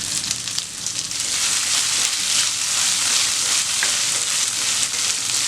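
Dried red chillies and salt fry in a pan for a chutney, making a loud, continuous close-up sizzle with light crackle and occasional stirring, no talking.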